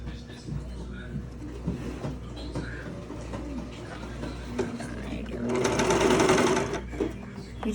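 A serger stitches fabric for a garment in a fast whirring buzz that swells louder toward the end, with a voice talking over the background hum.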